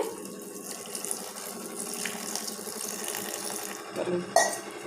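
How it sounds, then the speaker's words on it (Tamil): Water runs from a tap into a grinder jar to thin a peanut chutney before grinding, a steady close splashing stream with a brief louder clink near the end. "இப்போ நம்ம தண்ணி சேர்த்திக்கலாங்க"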